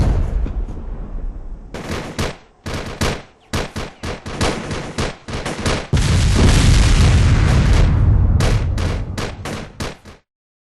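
Battle with indirect fire supporting an outpost, heavy booms and rapid gunfire bursts rattling in close succession, then a sustained roar of fire, loud and without talk.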